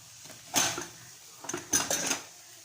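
A lid lifts off a pot of fish sambar in two separate clatters of metal on metal, each a short bright clink with a ringing rattle, close and fairly quiet in an otherwise still kitchen.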